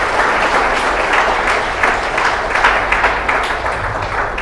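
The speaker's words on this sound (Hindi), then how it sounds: "एक अच्छी ताली बजाकर प्रभु को धन्यवाद।" Church congregation applauding together in a hall, a dense, steady wash of many hands clapping at once, fairly loud and continuous throughout with no talk over it.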